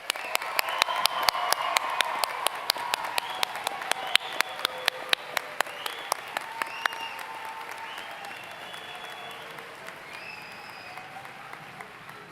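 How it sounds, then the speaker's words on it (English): A commencement audience at Central Ohio Technical College's summer graduation breaks into sustained applause, a broad wash of many hands clapping with sharp individual claps standing out, gradually fading as a few distant voices murmur beneath. "let's join together with another round of applause"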